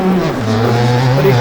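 A 2003 Suzuki RM 250 two-stroke motocross bike in MX Bikes, its engine revving loud and close, pitch dipping and then climbing back up in a continuous buzzing drone.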